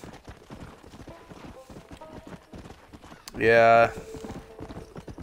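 A horse in the video game Red Dead Redemption clip-clops along at a steady gait under a voice, with a loud, sharp whinny partway through.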